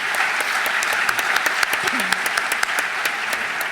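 A school guidance panel night audience claps steadily for the college representatives, dense and sustained, with a brief voice mixed in partway through.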